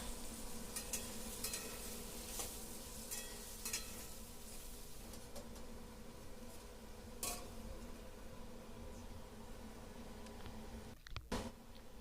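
Faint, steady sizzling of potatoes frying in a covered pan, with a few soft clicks and a brief rattle near the end.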